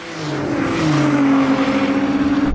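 A Porsche 911 Turbo, BMW M8 and Nissan GT-R launch in a drag race on a wet surface, with a loud, rising engine roar that climbs steadily in pitch under hard acceleration before cutting off.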